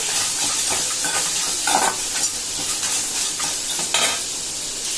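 Loud, continuous sizzling of crab legs sautéing in a hot pan, with occasional stirring scrapes rising briefly above the hiss.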